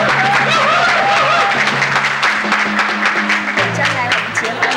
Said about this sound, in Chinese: 我们掌声欢迎陈小云小姐